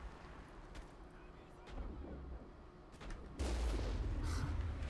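Gunfire in the sci-fi shooter game Mass Effect, sparse booming shots and muffled bursts at low level, growing louder and denser toward the end.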